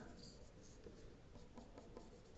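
Graphite pencil shading straight hair on paper, held mid-shaft with light pressure, giving a continuous soft scratchy rubbing with faint repeated strokes, close and steady, no talking.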